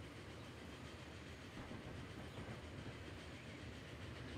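A passing train in the Transport Fever simulation game makes a continuous, faint, broadband rumble with a light rhythmic clatter throughout.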